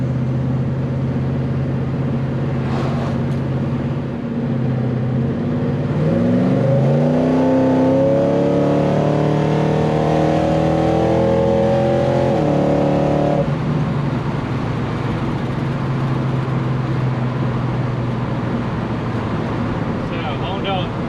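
A Chevelle on its first drive with a new transmission accelerates loudly, the engine note climbing through the gears with a steady drone before and after, heard from inside the car.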